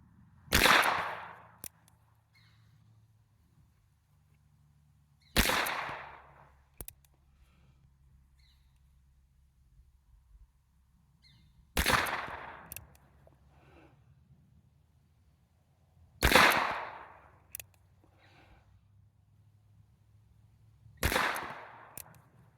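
Five sharp, loud pistol shots from a Colt Pocket Positive in .32 S&W Long, fired single action, each crack separated by roughly five seconds of quiet with a faint hum between.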